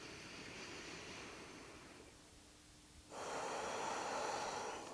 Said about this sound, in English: Two more deep breaths like this.